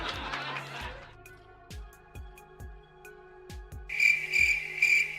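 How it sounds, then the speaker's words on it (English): A cricket-chirping sound effect follows an awkward joke: a few soft plucked tones give way to a bright, rapid chirp that repeats near the end. "crickets."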